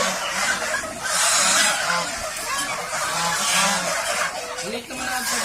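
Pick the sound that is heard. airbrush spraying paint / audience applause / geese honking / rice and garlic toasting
geese honking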